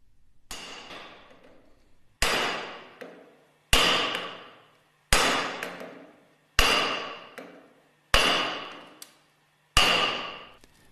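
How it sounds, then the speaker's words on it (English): Seven sharp hammer blows driving a clutch driver down onto a hard PVC mandrel during a Westfalia purifier overhaul, evenly spaced about every second and a half, each ringing briefly before the next strike. "Place on a hard PVC mandrel and lightly hammer the clutch driver downwards."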